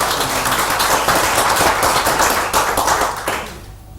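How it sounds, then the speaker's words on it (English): Audience at a sales talk in Bangkok breaks into a warm round of clapping, brisk and fairly close, holding steady before fading out near the end. "Warm round of applause."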